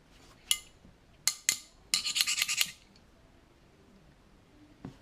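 Pliers work the front sight off a Glock 17 pistol with a few sharp metallic clicks, then a quick run of rasping scrapes, then quiet, close up with no talk.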